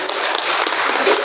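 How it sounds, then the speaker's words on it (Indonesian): Loud, dense applause from an audience at a book launch and discussion in a library, a continuous close wash of clapping. "sekali lagi minta tepuk tangannya"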